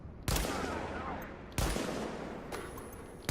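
Gunfire in Tom Clancy's The Division on PS4, three separate sharp bursts of shots spaced about a second apart, each trailing into a ringing echo, fairly quiet overall with some speech around them.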